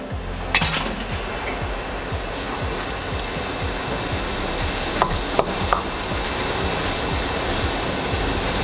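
Bagoong shrimp paste sautéing in a pan for pork belly kare kare, a steady close sizzle with a few sharp clinks of a utensil against the pan, no voices.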